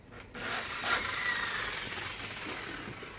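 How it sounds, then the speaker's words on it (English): A handheld polishing machine works a BMW E90 325i headlight, producing a continuous close whirring and rubbing noise that swells then gradually eases. "So, get your good old polishing machine"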